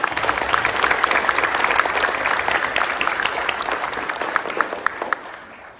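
An audience at a Students of the Month event applauds the students' supporters, many hands clapping loudly at first, then thinning out and fading near the end.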